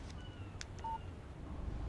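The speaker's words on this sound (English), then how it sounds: "Text message from Barry" A single short electronic beep from a mobile phone signals an incoming text message, a brief clean tone over quiet low room noise with a few faint clicks.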